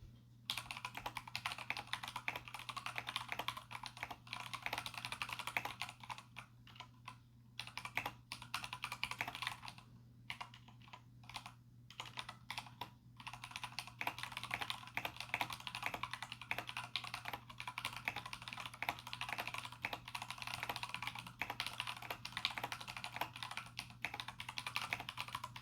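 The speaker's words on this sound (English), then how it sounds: "I'll be leaving the sound test here so you guys can hear how they sound." Continuous typing on an Akko 3087 mechanical keyboard fitted with stock Akko pink switches: a steady, fairly quiet stream of close key clacks over a low electrical hum, with no talk.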